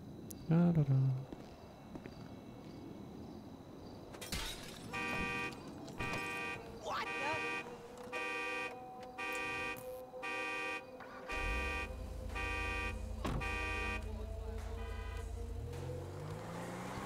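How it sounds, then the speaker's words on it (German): A car alarm in GTA V blares in a repeating pattern of electronic tones with engine noise underneath, while a player talks over it. "Gut, jetzt ist die hässliche Alarmanlage aus."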